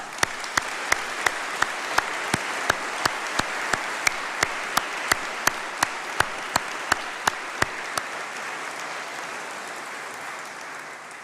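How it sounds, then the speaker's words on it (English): A crowd applauds in a great hall at a university summer graduation congregation, with dense, sustained clapping that stays steady and fairly loud. A regular sharp click or tick repeats over it for about eight seconds. "So let's give them a round of applause."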